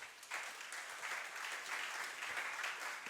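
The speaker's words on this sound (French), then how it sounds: "Est-ce qu'on peut acclamer pour la parole de Dieu?" A church congregation applauds during a Sunday sermon, a steady dense wash of clapping that holds at an even level for about three seconds with no talk over it.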